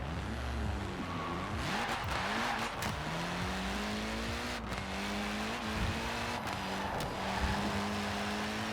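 A Lotus lightweight race car in Forza Horizon 4 revs and shifts through gears, engine pitch climbing and dropping repeatedly with brief tire squeal, loud and continuous with no speech.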